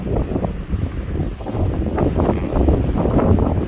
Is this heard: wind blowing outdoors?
yes